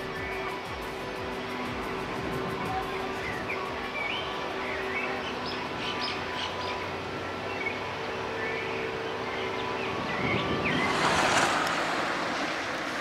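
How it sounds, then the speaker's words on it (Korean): Birds chirp and call lightly across a Tashkent city scene in Uzbekistan, small scattered tweets over a steady wash of traffic noise, with a louder hiss of passing noise near the end. "도시 어디서나 들을 수 있는 새소리도 한결 더위를 식혀준다."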